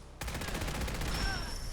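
Rapid bursts of Gauss rounds from the PDW Model 90 in Fallout 4 crack out in a fast, loud, evenly spaced volley, each shot sharp and close with an electric whine ringing beneath the string of hits.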